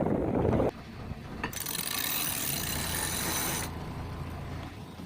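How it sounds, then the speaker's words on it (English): Strong wind blows while a boat sails on a lake in East Tennessee: a heavy gust buffets the microphone at first, then a steadier hiss follows with occasional mechanical clicks on board. "It's blowing pretty well out here."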